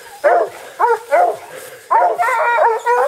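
Spanish hound on a wild boar trail giving a string of close, loud yelping barks in uneven bursts, about six cries with short pauses between them.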